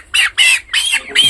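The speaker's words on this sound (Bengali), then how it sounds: "এই এই যে এই মুরগিটা মেপে দেখি।" A 23-day-old broiler chicken squawks loudly and close by while being weighed, in four sharp, harsh bursts in quick succession.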